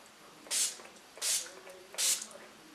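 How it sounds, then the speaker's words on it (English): Three short pumped sprays of makeup setting spray from a mist bottle onto a face, evenly spaced hissy bursts, close and fairly soft. "We're actually going to set the face with the 10 Years Younger setting spray."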